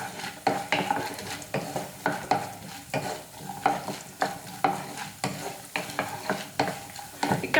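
Roasted gram being stirred into aval in a pan, a spoon scraping in a steady rhythm of repeated strokes about twice a second over a light sizzle, close and clear with no voices.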